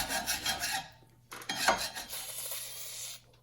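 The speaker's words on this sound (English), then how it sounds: "Guess the guy could always take a wire brush to it." A wire brush scrubs rust off the rear wheel hub of a Grand Caravan or VW Routan during a rear brake job. Close, rasping back-and-forth strokes come in quick bursts with a short pause.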